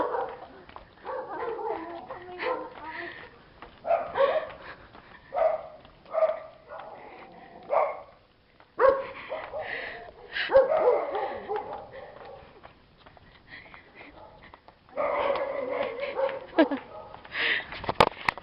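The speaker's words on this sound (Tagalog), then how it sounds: "Kaloko namin aso." A dog barks repeatedly in short bursts, loud and close, with people's voices mixed in between and over the barking.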